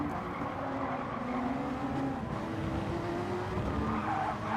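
A race car in Gran Turismo 7 braking on grass, engine drone with a sustained skidding, tire-squeal tone, loud and continuous for a few seconds.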